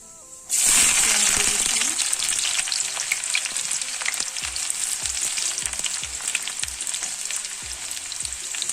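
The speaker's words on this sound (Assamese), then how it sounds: "এতিয়া ইয়াত তেল দিছোঁ মই। বিশেষ বেছি একো নিদিওঁ, অকল ইয়াত পিঁয়াজ এড কৰিম মই।" Onion hitting hot oil in a frying pan erupts into a sudden loud sizzle that holds steady and close, with faint scraping stirs and soft clicks scattered through it.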